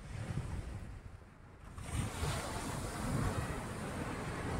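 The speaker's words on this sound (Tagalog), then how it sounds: "Pero malakas pa rin yung alon." Strong ocean surf washing onto a beach at La Serrano Beachfront in Morong, Bataan, a steady broadband roar of breaking waves that swells louder in the second half, with wind buffeting the microphone.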